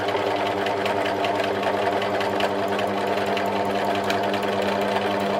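Sewing machine doing free motion embroidery on quilt fabric, running with a loud, steady, continuous whirring hum and rapid needle chatter close to the listener, without pauses or talking.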